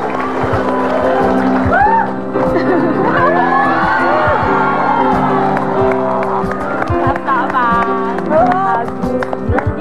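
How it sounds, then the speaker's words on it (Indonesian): A studio audience applauding and cheering for Deddy Corbuzier on a TV talk show, loud sustained crowd noise with whoops, while a host's voice talks over it throughout. "Tepuk tangan buat Deddy Corbuzier."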